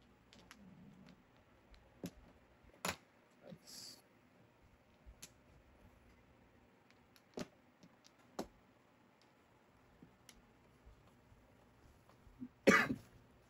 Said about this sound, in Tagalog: Ubo na eh. Ayaw pa tumigil.